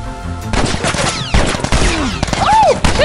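Turret gunfire in The Last of Us, with loud, rapid bursts of shots mixed with other chaotic game effects in a short, intense stretch.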